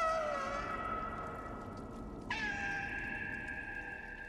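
Cats in the video game Stray give long, wavering meows, one call fading out and a second starting abruptly and sustaining, moderately loud over a quiet ambient background.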